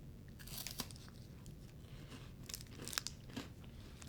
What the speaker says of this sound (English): It's crunchy and it tastes like coffee.